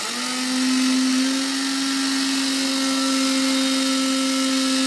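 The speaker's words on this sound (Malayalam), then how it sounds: "മിക്സിയിലിട്ട് നന്നായിട്ടൊന്ന് പൊടിച്ചെടുക്കുന്നത്" Mixer grinder powdering dried moringa leaves, a steady loud motor whine with a strong constant hum that holds unbroken throughout, rising slightly in the first second as it spins up.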